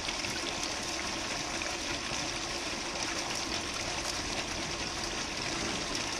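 Water runs steadily out of the front of a gold trommel in a continuous, moderately loud rushing trickle with no pauses.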